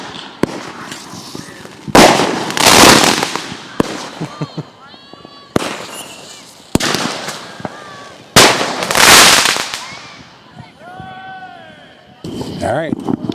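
Fireworks on July 4th burst close by in repeated loud cracks and booming blasts, some in quick clusters and others spaced seconds apart, with crackling tails between them.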